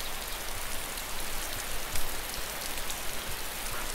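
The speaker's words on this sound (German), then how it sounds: "Es regnet gerade eben." Steady rain falls in the video game DayZ, a dense, even hiss of drops that runs unbroken and fairly loud for the whole stretch.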